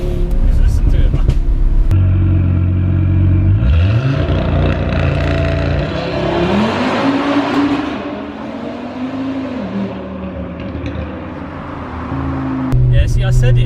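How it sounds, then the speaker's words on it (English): Audi RS3 fitted with a full Scorpion exhaust system, its engine rumbling deeply close by and rising and falling in pitch with light revving, with a person talking over it. "the full exhaust system, the Scorpion exhaust system, it changes the character of the car"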